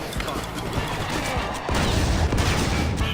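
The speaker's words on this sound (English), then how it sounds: "now he's gonna start shooting stuff" An enemy fires in the video game Counter Spy: dense, crackling bursts of gunfire that grow heavier partway through, amid busy game noise.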